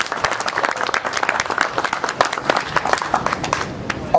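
An audience at an opening ceremony applauds a guest's donation with lively, dense clapping that holds steady at close range for the whole stretch, with faint crowd murmur beneath.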